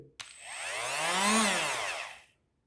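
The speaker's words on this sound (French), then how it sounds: "pour mettre en marche votre meuleuse, vous devez appuyer sur le bouton puis pousser" A Parkside PWSA12B1 cordless angle grinder switches on with a click, spins up to a loud steady whine, then winds down to silence over about two seconds.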